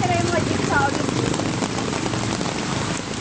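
Heavy typhoon rain pours down in a dense, constant roar, loud and close, with faint voices and chirps mixed into the wash.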